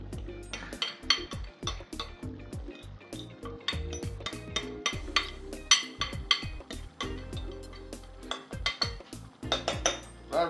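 Chicken liver marinade is poured back into the pan while a utensil scrapes and taps the bowl, giving a busy run of close metallic clinks, knocks and scrapes at an irregular rhythm, with no talking.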